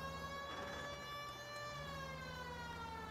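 A police car siren from the video game L.A. Noire wails continuously in a steady, high rising-and-falling tone, loud and close, with a low engine drone underneath and no talking.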